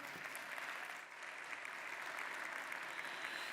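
A large plenary audience at an investment forum applauds after a speech, a dense, even wash of clapping held steady from start to finish with one short dip.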